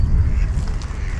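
Ducks gather on thawed puddles beside frozen ponds in a city park, a brief cluster of low, rough quacks close by over outdoor ambience.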